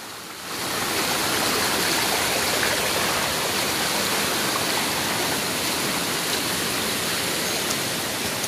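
A Konkan waterfall and stream pour steadily, a loud, dense, continuous rush of water close by that swells in after a brief moment and holds without pause.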